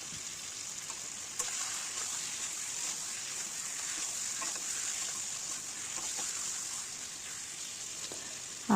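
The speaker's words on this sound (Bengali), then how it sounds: "চিকেনটাকে এইভাবে ঠিক 10 মিনিট কষিয়ে নেব।" Chicken cooking in a pan with spices over a medium gas flame, no water added, giving a steady soft sizzle throughout at a low level, with a few faint clicks and knocks of the utensil.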